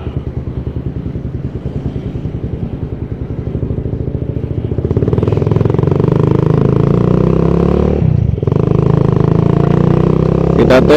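A Suzuki Satria FU motorcycle rides off on a test run after an oil seep repair, its engine putting steadily and close by, then rising into a louder, fuller drone as it gathers speed, with a short dip near the end.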